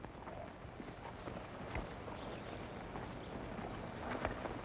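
Horses walk along, hooves clip-clopping in an uneven, unhurried rhythm, faint and somewhat distant beneath light wind.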